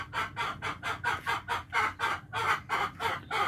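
A hen near a basket clucks in a quick, even series of about a dozen close, loud pulses.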